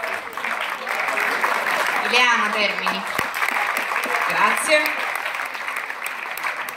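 A concert audience applauds steadily from start to finish, a dense, even wash of clapping while someone speaks over it.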